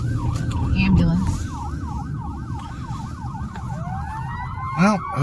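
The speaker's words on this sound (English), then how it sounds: "Oh, ambulance." An ambulance siren at a Manhattan, Kansas intersection yelps in a rapid warbling pattern, fairly close, over steady traffic noise, then shifts briefly to a sweeping wail near the end.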